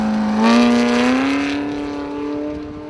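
An off-road buggy engine screams at full throttle during a Formula Offroad time attack in Iceland, pitch climbing steadily as it accelerates, then holding a loud, close, sustained high whine before easing slightly, with no voices.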